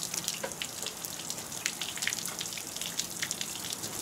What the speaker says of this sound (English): You want the water flowing out of there.